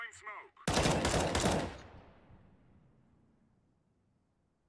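Loud, close burst of rapid gunfire in Counter-Strike: Global Offensive, a dense volley of shots lasting about a second, then a long fading reverberant tail into near silence.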